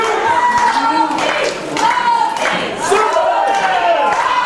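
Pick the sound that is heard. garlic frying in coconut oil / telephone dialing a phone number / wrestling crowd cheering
wrestling crowd cheering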